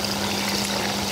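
Broth poured into a pot of gourd and guichha fish curry, a steady close stream of liquid splashing in for a brief moment.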